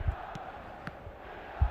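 Faint, steady murmur of a stadium crowd at the San Siro in the eFootball football game, a low continuous buzz with a few soft thuds.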